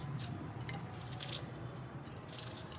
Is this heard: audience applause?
no